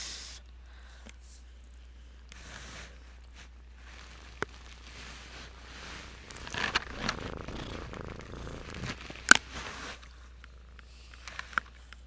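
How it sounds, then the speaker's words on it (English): A kitten named Daisha brushes against a microphone during a drawing session, making soft muffled rustles and scuffs with a steady purr underneath, busiest toward the end, with no talking. "You probably just heard my kitten rub up against my microphone"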